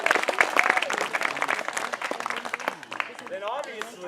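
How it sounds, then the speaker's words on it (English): A camp crowd around a campfire claps and cheers for the parents in a dense burst of applause, fairly near, with voices and whoops mixed in and the clapping thinning toward the end. "let's give a round of applause for all of them"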